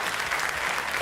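Studio audience at the Lenovo Accelerate 2019 event clapping their hands together, a dense, even burst of applause heard close and alone for about a second.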